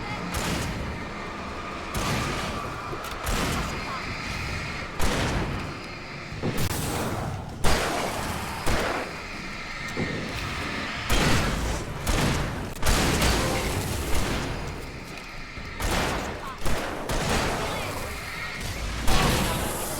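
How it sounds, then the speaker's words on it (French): Fireworks in the video game Alan Wake pop and boom in rapid irregular bursts, one after another, loud and busy over a continuous background din. "Il y a des feux d'artifice!"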